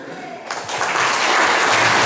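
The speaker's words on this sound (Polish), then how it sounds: "Duże brawa dla zawodnika" Audience applause breaks out for a competitor at a Herkules 2013 award event in Kunice, rising quickly into a dense, steady roar of clapping after a brief quieter moment, with faint voices beneath.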